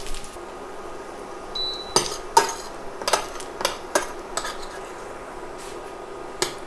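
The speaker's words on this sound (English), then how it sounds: "I'm going to transfer the bacon to a little plate" Cooked bacon lifted out of a pan onto a small plate, with a string of sharp metallic clinks and clatters from utensils against cookware, close and irregular with no talking.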